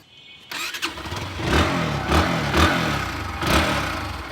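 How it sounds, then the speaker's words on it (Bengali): A 2022 Bajaj Pulsar NS 160 ABS motorcycle engine catches after a short quiet moment and settles into a close, loud, rhythmic idle with regular pulsing thumps. "স্টার্ট দিয়ে দেখাবো।"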